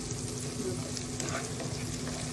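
Green chilies sizzle and fry in a pan for a soy vegetable dish, a steady close crackle with faint stirring throughout.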